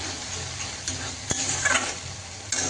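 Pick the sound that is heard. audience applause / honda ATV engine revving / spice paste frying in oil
spice paste frying in oil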